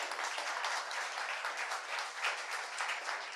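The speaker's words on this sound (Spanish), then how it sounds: "Denle un fuerte aplauso al Señor en esta mañana." A church congregation at a Sunday morning service applauds, a brief, thick burst of clapping that stays loud and steady from start to finish.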